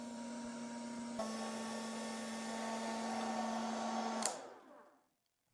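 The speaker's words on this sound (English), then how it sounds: "I switched to this hairdryer, which held up well until the end of its job" A hairdryer blowing hot air onto termite-infested wood, a steady, close whirring drone with a tonal hum that runs for about four seconds, then clicks off and winds down into silence.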